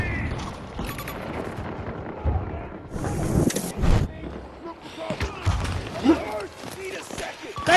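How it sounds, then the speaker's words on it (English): A grenade bursts amid intense gunfire in the shooter Battlefield 2042, giving a sharp boom among crackling shots and battlefield clutter, with voices calling out over the fight. "Grenade out!"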